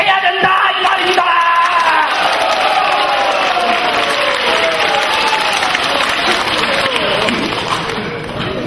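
A crowd at a patriotic lecture breaks into loud applause mixed with cheers and shouts, a sustained roar that tapers off slightly near the end.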